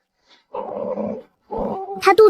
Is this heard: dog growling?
yes